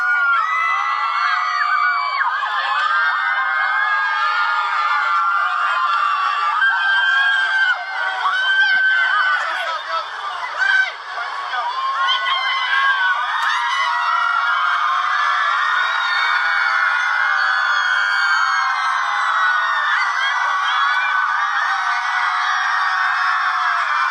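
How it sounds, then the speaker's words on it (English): Fans of Nicki Minaj in Australia scream, whoop and cheer continuously, a dense high-pitched crowd roar that swells and dips briefly before building again. "look at the screaming fans out in Australia, out in New Zealand."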